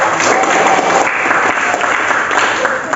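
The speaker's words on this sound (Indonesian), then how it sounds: "Tepuk tangan" A classroom of students claps together, a dense, steady burst of applause lasting a few seconds with a faint voice underneath.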